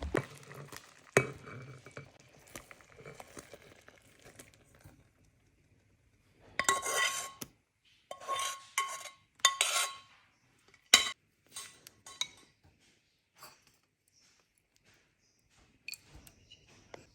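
Fig murabba being served out into a dish: scattered clinks and scrapes of a spoon against pots and dishware, with short bursts of stirring and scooping, close and moderately loud, with quiet gaps between.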